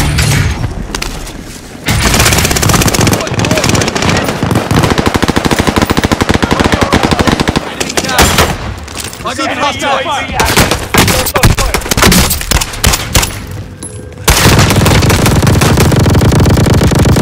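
Chain gun firing in Call of Duty Warzone, long loud sustained bursts of rapid automatic fire broken by short pauses, with booms and mechanical clatter in between.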